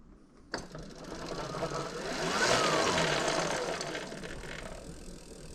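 A BBSHD mid-drive electric bike motor running a VESC controller spins the wheel under throttle: a close, steady mechanical whirring whine that kicks in abruptly, swells in the middle and eases slightly, with no talk.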